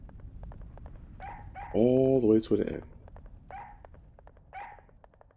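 Dog in the PlayStation 2 disaster game Disaster Report, giving one loud bark and whimper in the middle over soft repeating footstep-like ticks and small chirps, with someone talking over it.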